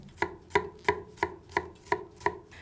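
Steady knife chopping of an onion on a cutting board, seven evenly spaced thuds about a third of a second apart, close up with no talking.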